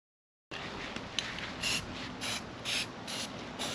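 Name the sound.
spray painting wheels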